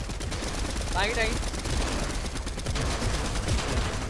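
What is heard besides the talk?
gunfire in the video game Fortnite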